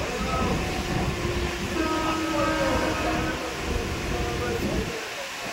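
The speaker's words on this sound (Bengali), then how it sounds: "সকালবেলা ট্রেনের স্পিডটা দেখো।" Ranaghat–Naihati local train running at speed in the morning, a loud steady rumble and rattle of the carriages heard from on board, continuous and close, with faint talk underneath.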